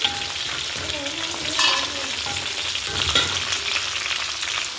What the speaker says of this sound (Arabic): البطاطس خش على التحمير اهو